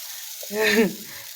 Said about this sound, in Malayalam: ഇനി നമ്മൾ കുറച്ച് നെയ്ത് ഇതുപോലെ ഇട്ട് കൊടുക്കും അവിടെ കിടന്ന് നന്നായിട്ടൊന്ന് മുരിയട്ടെ